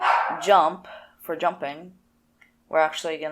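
A dog barks in short, clipped bursts close by indoors, mixed in with a person talking who keeps speaking between and over the barks.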